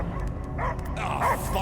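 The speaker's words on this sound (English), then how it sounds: "I hear only barking." A dog barks repeatedly in the Guardians of the Galaxy video game, a run of short yips and bow-wows with whimpering tones over a low rumbling game ambience, fairly close.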